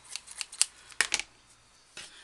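Quiet, crisp snips and clicks of worn, dull scissors cutting while decorating a candle, a few irregular bursts close by with pauses between.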